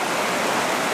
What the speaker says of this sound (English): It's really a noisy place with the roar of that water here.